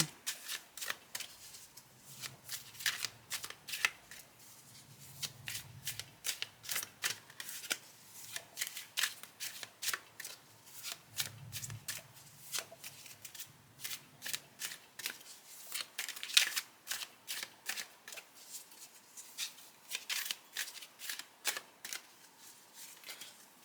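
Tarot cards being shuffled over and over in quick riffling bursts, close and steady, with no talking.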